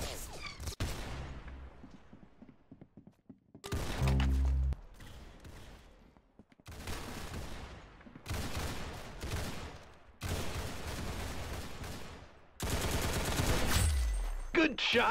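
Rapid bursts of gunfire from the Roblox shooter game Arsenal, loud and close, coming in several dense volleys separated by short gaps, with a voice speaking at moments between the shots.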